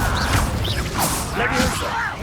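Incendio fire spell cast in Hogwarts Legacy, a fiery whooshing burst with bright swishing magic tones over a dense rumbling game soundscape, loud and close.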